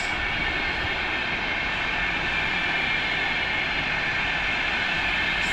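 An EW60 electric train passes at a distance, giving a steady, broad rushing rumble that stays even throughout without distinct clicks or horns.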